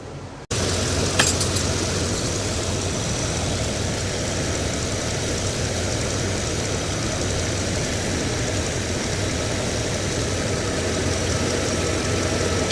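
A 30-year-old Rolls-Royce idles steadily up close, its engine giving a constant low rumble with a faint knock. The sound stays even and unchanging after a brief start, with no talk over it.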